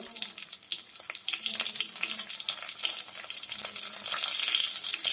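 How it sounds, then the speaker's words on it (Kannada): Mustard seeds and two chopped green chillies sizzling in hot oil for a tempering for brinjal palya, a steady dense crackling hiss that grows louder and fuller toward the end, with no talk. "ಸಾಸಿವೆ 1 ಚಮಚ, ಇಲ್ಲಿ 2 ಹಸಿ ಮೆಣಸು ಕಟ್ ಮಾಡಿ ಇಟ್ಕಂಜಿ ಅದ್ರ ಹಾಕ್ತಾ ಇದ್ದಿ ಒಗ್ಗರಣೆಗೆ."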